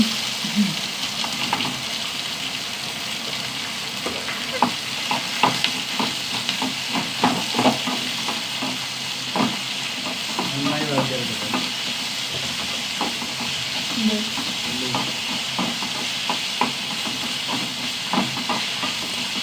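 Garlic and onions sautéing in a pan make a steady, close hiss and sizzle throughout, broken by frequent light scraping clicks from stirring; no one speaks.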